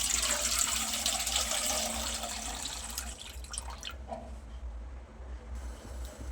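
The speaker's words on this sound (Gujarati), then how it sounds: "1 લીટર ફૂલ ફેટ દૂધ લીધેલું છે, એ આપણે એક બાઉલમાં ઉમેરી દઈશું" A liter of full-fat milk pours steadily into a bowl, a continuous close liquid rush that gradually thins and trails off into faint drips near the end, with no talking.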